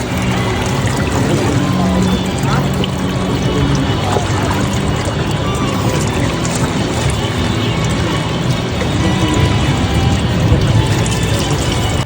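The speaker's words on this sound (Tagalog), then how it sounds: "pinaghuhugasan na nga pala namin dito sa lababo ni Tagtag yung uulamin naming isda" Fish rinsed under a tap in a sink at a riverside camp, a loud, steady rush of running water splashing without pause throughout, close and dominant, with faint voices now and then.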